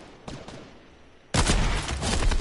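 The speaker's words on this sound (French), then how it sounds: "ça tire de partout" Gunfire erupting all around in a multiplayer shooter video game: a couple of faint distant shots, then a sudden loud burst of rapid fire and overlapping shots that continues.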